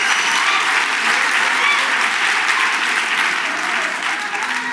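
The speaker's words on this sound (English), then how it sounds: "You can give Kwanele a round of applause." An audience gives a dense, sustained round of applause, a steady wash of many hands clapping throughout, loud and unbroken, without a voice over it.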